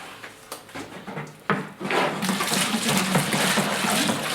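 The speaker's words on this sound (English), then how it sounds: "So when this has happened, we add water." About 10 liters of water pours and splashes steadily into a chemical mixture in a container after a few soft knocks, continuing as a rushing flow with no talking.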